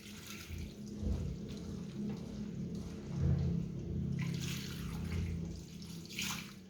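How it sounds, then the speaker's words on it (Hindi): Grated potatoes are rinsed and sloshed in a bowl of water, giving a steady, close, broadband splashing and swishing that swells in a few louder surges, with no voices. "दोबारा से अच्छी तरह धो लेंगे आलूओं को"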